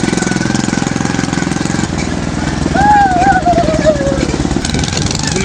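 A motorcycle engine runs steadily close by in a village setting, a loud, even chugging drone that continues throughout, with a voice rising briefly over it midway.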